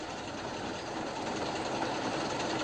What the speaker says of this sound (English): the two diesels set off for the other railway.